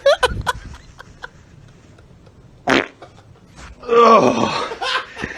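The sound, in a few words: fart sound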